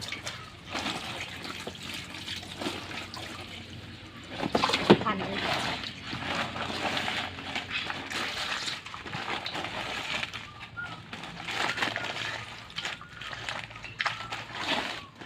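Running tap water splashes steadily over wild yam (kloi) being rinsed in a basin, a continuous close wash with brief louder splashes, alone without talk.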